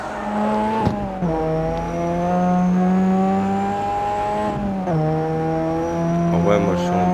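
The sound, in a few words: car drifting with tire squeal in CarX Street video game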